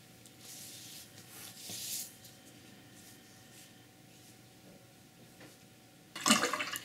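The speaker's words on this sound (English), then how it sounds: "Wash the brush" A paintbrush is rinsed in water between one-stroke strokes while painting a rose: soft swishing splashes up close, ending in a louder splash, with no talking.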